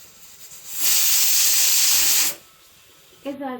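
Loud, steady hiss of steam venting from a pressure cooker as lentils or vegetables boil, a continuous burst lasting over a second before cutting off, followed by quieter kitchen noise.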